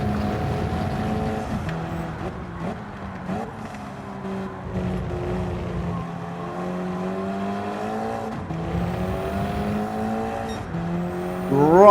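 Small open-cockpit race cars lapping a track in Gran Turismo 7, several engines whining and shifting pitch together as they run close, with a steady layered drone and a rising rev near the end.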